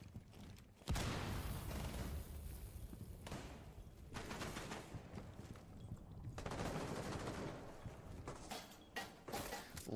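Finka LMG light machine gun fire in a Rainbow Six Siege NA Challenger League match, sustained bursts of rapid gunfire with thumps and mechanical clatter, loud and continuous for most of the stretch.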